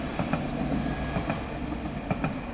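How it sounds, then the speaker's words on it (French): A tram rolls past on its rails near a nature reserve in Bruges, Nouvelle-Aquitaine, a steady mid-distance rumble with faint rhythmic clicks from the wheels and no voices. "C'est le tram."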